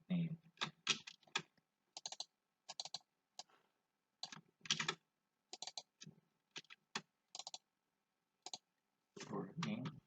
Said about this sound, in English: I will type the name as